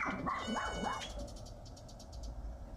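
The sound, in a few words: dog barking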